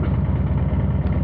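A 2023 Harley-Davidson Breakout with a 117ci V-twin and Rinehart 2-into-1 exhaust idles close by, a loud, steady lumpy rumble with an even pulsing beat throughout.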